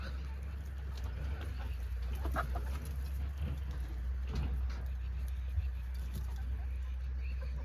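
Free-range native hens cluck softly and intermittently amid a steady low rumble, with occasional brief calls rising above the background.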